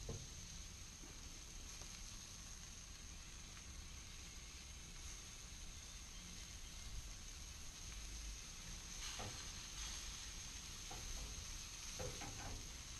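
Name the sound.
kielbasa sausages frying and being stirred in a pan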